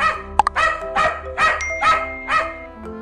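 A dog in a children's story barks in a steady series of about six loud, close yips and barks, evenly spaced, with no talk over them.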